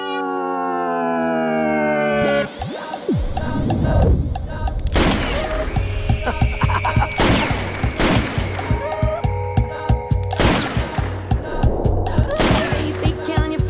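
Gunfire in a film scene, heard as a run of sharp, loud bursts that repeat through the second half after a tonal musical opening. The shots ring out over a busy soundtrack.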